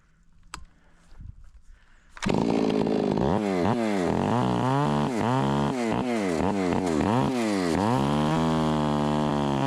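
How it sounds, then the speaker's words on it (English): A ported Stihl 461 chainsaw bursts to life after a quiet start and runs loud and close, revving up and down in repeated surges while bucking poplar logs. "clean the butts up and start bucking the logs out"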